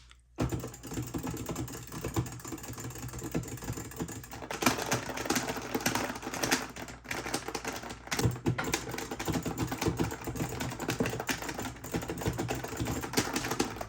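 Fast, dense clicking and clattering of arcade buttons and a joystick, continuous and close-up, with no talking.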